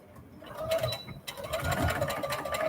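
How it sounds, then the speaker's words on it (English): A sewing machine stitches back and forth on a circular piece with a hem, a close, steady mechanical whirr that briefly pauses and restarts with fluttering rhythm. "we're going to give it a little back and forth on the sewing machine"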